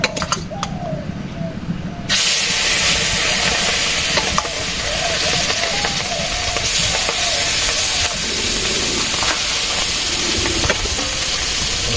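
Fish frying in a pan during simple village cooking in Bangladesh, a loud steady hiss of hot oil that jumps in intensity, with pigeons cooing faintly in the background.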